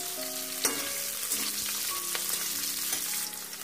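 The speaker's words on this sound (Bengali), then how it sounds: "দিয়ে দিচ্ছি পেঁয়াজ কুচিগুলো, এগুলো দিয়ে একটু আমরা নেড়ে নিলাম।" Chopped onions with whole cumin and garam masala stir-fry in a pan, giving a close, continuous sizzle with occasional scraping of a spatula as the mixture is turned.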